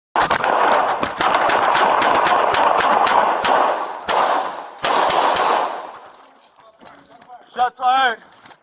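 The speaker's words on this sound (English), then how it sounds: "Shots fired." A rapid, loud volley of gunshots during a police arrest, many sharp cracks in quick succession lasting several seconds, then fading into quieter shouting and a radio voice.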